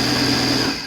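Sewing machine driven by a newly installed servo motor, running fast at about 2,000 stitches per minute, giving a steady, continuous mechanical whir with a high-pitched tone that holds throughout and eases slightly at the end.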